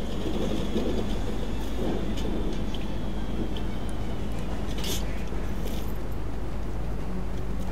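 A train rolls along in the survival game Rust, a steady low rumble and rattle that runs continuously beneath men chatting in Arabic over voice chat, with a few faint clicks.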